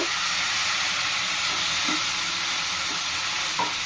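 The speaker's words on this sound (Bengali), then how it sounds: "এখন আমি এর ভিতরে লিকুইড দুধটা দিয়ে দিব" Liquid milk goes into a pan of lachha semai fried until reddish-brown for burfi, raising a steady, dense sizzle that hisses evenly throughout with faint stirring scrapes.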